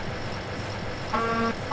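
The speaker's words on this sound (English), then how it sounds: "Let's honk our horn." A vehicle horn honks once, a short steady toot lasting under half a second, from a vehicle in the video game Airport Simulator 2015, heard over a low engine hum.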